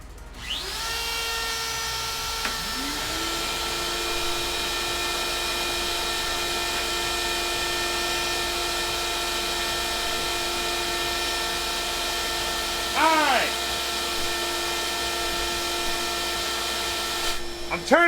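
A vacuum runs steadily and loudly through a DIY CNC mill setup, its tonal whine holding constant from start to finish, with brief pitch wobbles near the end.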